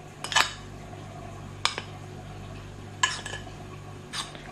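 A spoon scoops tapioca starch into a mixing bowl, giving four separate light metallic clinks against the bowl at a steady pace, close and fairly quiet, with no talking.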